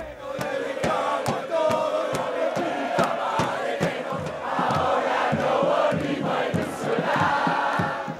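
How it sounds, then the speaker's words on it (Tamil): Football fans in Mexico City celebrate Argentina's win, a dense crowd roaring with shouts, chants and rhythmic thumps that pulse steadily throughout, loud and close. "இது மெக்சிகோ நாட்டில் மெக்சிகோ சிட்டியில் ரசிகர்கள் ஆரவாரம் செய்யும் காட்சி."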